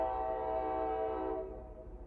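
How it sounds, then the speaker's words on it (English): A train rumbles past with a steady low drone and tonal hum that fades toward the end. "It's unbelievable what these trains put me through."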